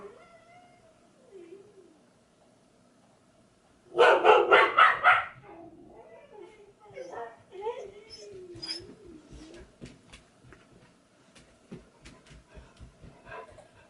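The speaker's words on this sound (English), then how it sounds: "it wasn't until he got out of his car that they decided they wanted to bark at him" Several dogs erupt into a loud burst of barking for about a second, then scattered yaps and outdoor rustling continue at lower volume.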